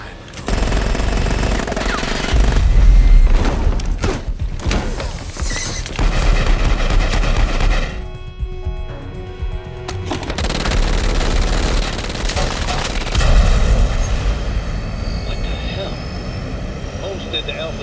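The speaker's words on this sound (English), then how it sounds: "I'm seeing what looks like gunfire in the passenger cabin" Automatic gunfire rattles aboard an airliner during a video game cutscene, with loud bursts over a steady roar of aircraft engine noise. The shooting swells and falls across the scene, briefly drops away, then resumes while characters speak.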